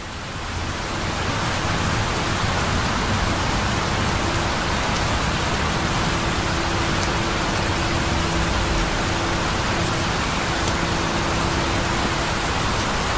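Rain falls in a heavy, steady broadband roar that rises within the first second and then holds constant, with a faint low tone running beneath it.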